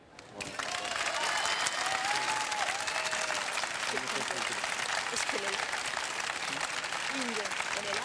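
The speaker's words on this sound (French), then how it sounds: "ce n'est pas un tonnerre d'applaudissements que je souhaite" A crowd bursts into loud, sustained applause that starts suddenly and keeps up dense and even, with some voices and cheers mixed into the clapping.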